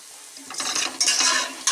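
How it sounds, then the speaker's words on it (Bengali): Sliced onions frying in oil in a pan over medium to high flame, stirred so that crackling sizzle bursts rise and fall in short scraping pulses, close and fairly loud. "পেঁয়াজটাকে মিডিয়াম টু হাই ফ্লেমে ভেজে নিচ্ছি।"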